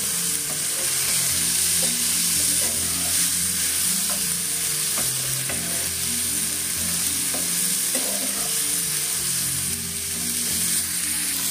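Onion and garlic fry in oil in a pan, a steady loud sizzle running throughout with occasional stirring scrapes and taps, close and without any voices.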